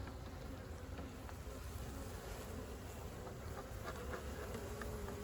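Honeybees in a hive just after smoking, a faint, steady buzzing drone with some wind noise, soft and continuous.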